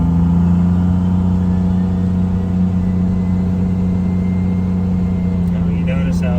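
A Cummins diesel truck engine runs on a dyno, a loud steady low drone and rumble that holds even throughout without clear revving peaks.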